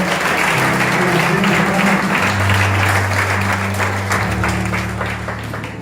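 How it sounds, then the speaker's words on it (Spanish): A church congregation applauds steadily and loudly throughout, with dense clapping under sustained organ or keyboard tones. "Dame un aplauso, Señor."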